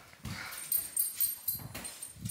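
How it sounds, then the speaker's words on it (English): A dog outdoors near a home gives a few faint, soft barks and whimpers, spaced unevenly and heard from a little distance with no talk over them. "What are you barking at?"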